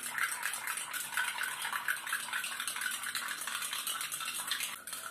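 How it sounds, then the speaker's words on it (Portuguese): A spoon stirs sand in a glass of water, giving a steady, faint gritty swirling and clinking that continues throughout without talk. "nós podemos mexer muito, que essa areia, olhem só, não irá dissolver-se por completo na água."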